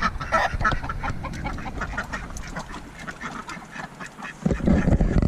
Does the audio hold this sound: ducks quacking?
yes